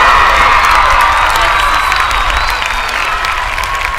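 A large crowd cheers loudly at a 2024 homecoming high school football game, Victoria East Titans versus Pieper Warriors, with a sustained roar of voices, whoops and whistles filling the whole stretch.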